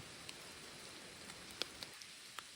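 Light rain falls at night outside an abandoned house deep in a forest, giving a faint steady hiss with a few scattered, soft drop-like taps.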